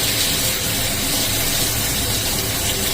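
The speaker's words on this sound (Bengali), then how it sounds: "বেগুনটা এখন ভাজা চলছে।" Salt-and-turmeric-rubbed eggplant fries in hot oil in a pan, a dense, loud, even hiss of sizzling that holds steady throughout without pauses or voices.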